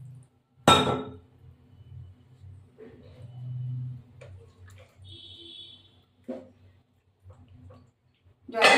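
A metal lid goes onto a pot of simmering potol-aloo curry (pointed gourd and potato), giving a few sharp, close clinks spaced apart over a low, steady kitchen hum.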